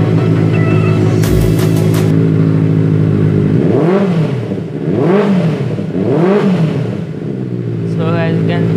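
A 2017 Benelli 600i motorcycle with aftermarket exhaust silencers, idling then revved hard three times in quick succession, loud and close, with a short high clatter early on.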